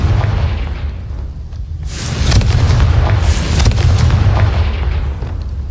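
A Confringo blasting spell in Hogwarts Legacy sets off a loud series of booming explosions, deep rumbling blasts landing in quick succession with no voices.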